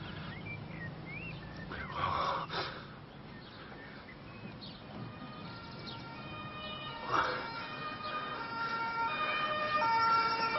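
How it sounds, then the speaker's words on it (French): An ambulance siren wails at a distance, its tone rising and falling as it draws closer, fairly faint overall with a few other background sounds and no speech. "Cette ambulance, elle arrive."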